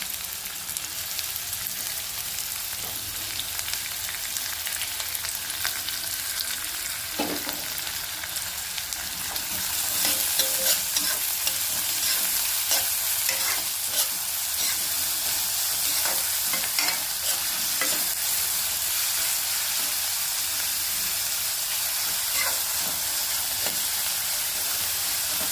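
Onions sizzle in hot oil with cumin seeds in a pan for Kerala-style pori kulambu, a constant close hiss broken by scraping stirs, growing fuller and louder about halfway through.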